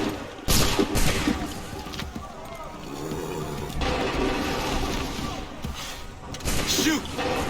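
Musket volleys in Assassin's Creed 3, with loud crackling bursts of massed gunfire at intervals, mixed with battlefield clatter and voices.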